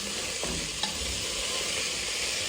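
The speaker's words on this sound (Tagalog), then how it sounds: "Gisa-gisa lang ako ng gulay. With chorizo." Vegetables and chorizo sauté in a pan with a steady, even sizzle, a few soft knocks of stirring breaking through near the start; no one speaks.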